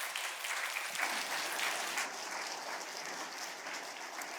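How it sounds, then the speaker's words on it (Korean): A church congregation applauds steadily to welcome a pastor, a dense wash of clapping that holds at an even level throughout. "큰 박수로 한번 환영해 주시면 감사하겠습니다"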